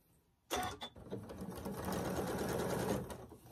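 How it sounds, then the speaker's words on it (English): A sewing machine stitches a quarter-inch seam on a shoofly quilt block. After a brief click it starts abruptly into a fast, steady whirring run that lasts about three seconds before slowing, with no talking. "Okay, so now I'm going to just sew down 1/4 of an inch right here."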